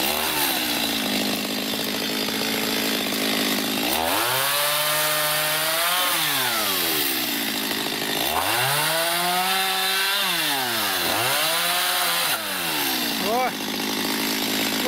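A chainsaw cuts wood inside an old cowshed, the engine loud and close, revving up and down in several rising and falling passes through the cut, with voices heard over it.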